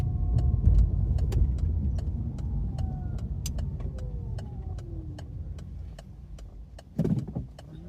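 Car driving along a driving test route towards Hawkinge near Folkestone, with a steady engine and road rumble throughout, a regular ticking indicator over it, and a brief louder surge near the end.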